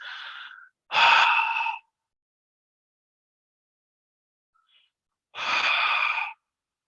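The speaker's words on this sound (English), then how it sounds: "It was called ocean breath or cobra breath." Ocean breath, also called cobra breath, a pranayama breathing technique: three audible breaths, a short one, then two long hissing exhalations separated by several seconds of silence, close and fairly loud.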